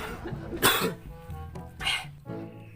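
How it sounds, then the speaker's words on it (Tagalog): A person coughs twice in sharp, close bursts about a second apart, with a low steady hum underneath and no speech. "Nganong sige man kag ubo noy."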